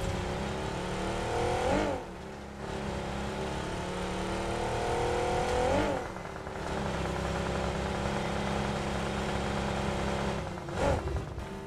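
A car engine drives in the BGMI battle royale game, holding a loud, steady drone that dips and climbs again with each gear change several times, close up and with no talk.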